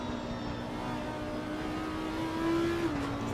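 GT3 race car engines, an Audi and a Ferrari, racing at the Red Bull Ring in a racing game, a steady loud engine roar with a rising whine near the end and no talk.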